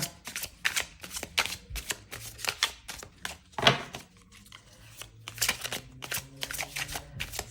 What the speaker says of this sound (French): on prend le tarot. Et on va choisir aussi 2 cartes